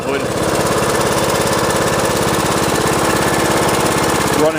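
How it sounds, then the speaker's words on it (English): Craftsman T110 lawn tractor engine running steadily at close range, a loud continuous chugging drone with rapid regular firing pulses throughout, unchanged in level from start to finish. "Engine sounds great, no problems with that."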